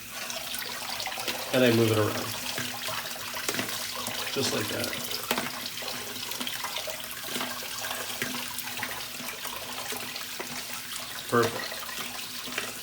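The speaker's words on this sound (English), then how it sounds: "And now I run some cool water" Cool tap water runs steadily over cooked Banza chickpea pasta in a strainer, a continuous splashing wash with a person talking over it.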